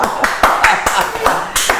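A few people clap in uneven, spaced bursts at close range, with talking mixed in around the claps.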